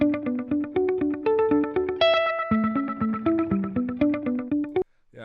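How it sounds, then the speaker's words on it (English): A digital delay pedal with regeneration turned fully up sustains and repeats a distorted electric guitar line, stacking echoing notes into a dense, chorus-tinged wash that runs for several seconds before cutting off abruptly. "just show people the wonders of self oscillation on a digital platform?"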